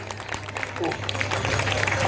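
An audience at a village Iraniya drama about Bhakta Prahlada in Vellikuppampalayam claps lightly over a steady low hum, with a voice speaking amid the scattered applause.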